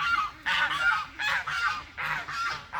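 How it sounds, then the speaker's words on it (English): Ducks chasing each other outdoors in winter honk and quack loudly in a rapid series of harsh calls, close by and continuous with short gaps between bursts. "The ducks are chasing each other."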